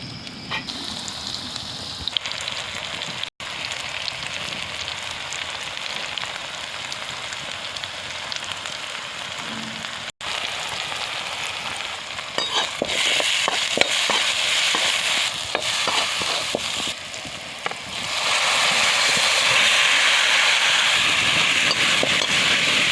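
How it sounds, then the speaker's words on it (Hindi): Macaroni boiling in a pot on a home kitchen stove, a steady broadband bubbling and sizzling hiss that runs throughout, swelling louder in the second half with occasional clinks and stirring sounds, no voices. "तो अभी यहाँ पे माइक्रोनी उबल रही है यहाँ देखो"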